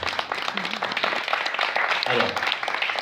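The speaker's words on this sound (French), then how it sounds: "On peut l'applaudir un peu." An audience claps during an artistic performance event, a dense wash of applause under a speaker's voice and some background murmur.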